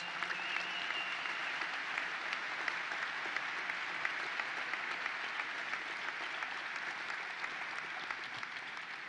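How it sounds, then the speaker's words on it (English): Steady, dense applause from a crowd at the opening of a state fair continues evenly throughout, heard at moderate distance with no talking over it. "Let's give them all a round of applause."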